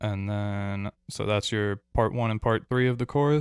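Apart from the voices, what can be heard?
No distinct noise like a dog, phone or traffic.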